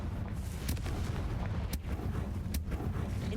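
In the Hogwarts Legacy video game, a Bombarda spell produces booming explosions over a dense rumbling battle background, with a few sharp blasts standing out.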